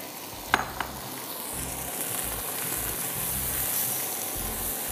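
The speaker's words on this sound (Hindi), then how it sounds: "चिकन को खूब अदरक लहसुन के साथ अच्छी तरह भून लीजिए" Chicken pieces on the bone sizzle steadily in a pan with plenty of ginger and garlic, a close, even frying hiss with a couple of brief stirring knocks near the start and no talk.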